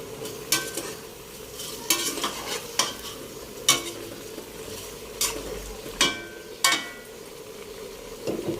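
Chicken curry being stirred and sautéed in a pan, a spatula scraping in regular sharp strokes about once a second over a steady sizzle, close and clear, with no one talking.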